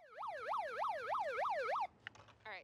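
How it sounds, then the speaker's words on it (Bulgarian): A portable electronic siren, carried to scare rodents away from a garbage container, gives a fast warbling wail that rises and falls six times, then cuts off abruptly, leaving a few faint clicks and a short burst. "имахме няколко инцидента с гризачи, затова си носим сирена"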